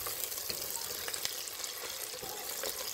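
A tomato paste and ginger mixture for a vegetable stew sizzles steadily in a hot pan as it is stirred, a continuous close frying hiss with occasional soft scraping and no talk.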